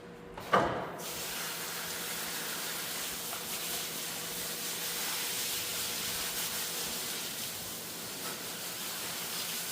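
A water spray hisses steadily at close range over disassembled planter meter parts, starting with a sharp burst and then holding a constant wash with no talking.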